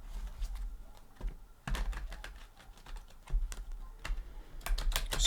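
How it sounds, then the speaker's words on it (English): A deck of tarot cards, a Lustrous Tarot deck, shuffled for a psychic tarot reading: close, crisp bursts of flicking and riffling cards come in irregular clusters with short pauses between, and nobody speaks. "We'll go ahead and give this a shuffle."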